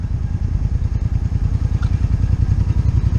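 A street motorcycle ridden slowly over a treacherous gravel lane in a cemetery, its engine thumping in a steady low pulse at close range, with faint crunching and clatter from the tires, and no voices.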